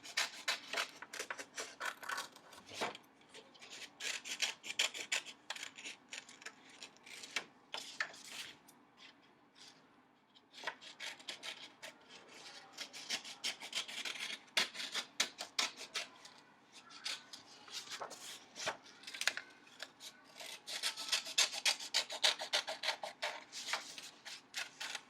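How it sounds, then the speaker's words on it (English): Scissors cut through paper to shape a pair of paper glasses, a quiet, close series of dry snips and rustling rubs with brief pauses between cutting strokes. "And then I'm going to cut them out."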